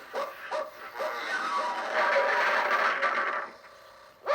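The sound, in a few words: dog barking, Pluto the cartoon dog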